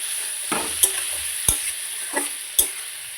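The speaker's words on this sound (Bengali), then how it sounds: "ভালো করে নাড়াচাড়া করে" Prawns being stirred in a hot pan, a spoon scraping and clacking against the metal in four or five distinct strokes over a steady background sizzle.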